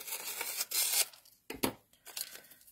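Wide Heffy Memo washi tape being cut or torn in half during stencil crafting, a close tearing crinkle in two short bursts separated by a brief pause, with no talking.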